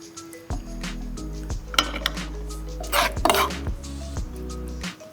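Lamb mince being scooped onto a shallow platter, with clinks and scrapes of a metal scooper against the dish and low humming tones, close up and with no talk.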